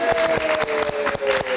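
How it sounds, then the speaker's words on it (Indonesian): A studio audience at a live television talk show claps in a dense, loud burst of applause, with sharp rhythmic clap peaks throughout the short moment. "Kita kasih tepuk tangan sekali lagi untuk teman-teman dari film Ozora."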